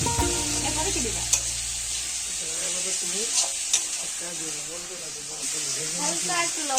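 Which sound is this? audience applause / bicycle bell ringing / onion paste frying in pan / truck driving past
onion paste frying in pan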